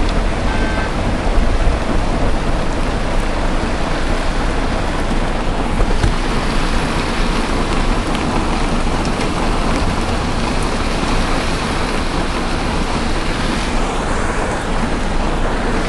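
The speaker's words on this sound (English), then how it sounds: "it's fucking raining hard as hell" Heavy pouring rain drums on a car from inside, a dense, loud, continuous roar lasting the whole stretch without pause.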